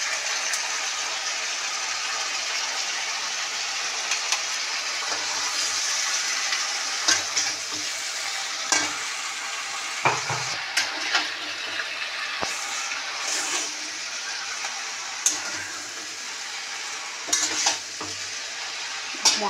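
Spice masala for shukto poured into a pan of bitter gourd, green banana and eggplant, frying with a soft continuous sizzle broken by repeated clattering stirs and scrapes, close by and without speech.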